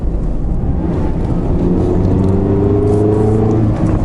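2017 Mazda MX-5 Miata engine hums steadily while driving, with a loud, close drone whose pitch climbs as the car accelerates over tire and road noise.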